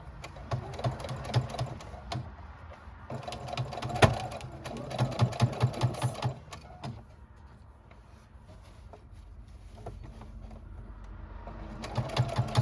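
A sewing machine stitches down a seam on a quilted purse in several short, fast bursts of rhythmic whirring, separated by brief pauses and quiet handling sounds, fairly close and with no talking.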